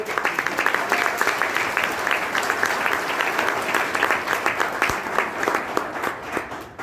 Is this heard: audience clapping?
yes